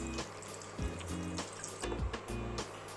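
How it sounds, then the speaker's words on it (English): Water is poured into a pan in a few short splashing bursts, each a brief close gush with small gaps between them, no voices present. "So I have kept a pan over here and I'll pour some water in it."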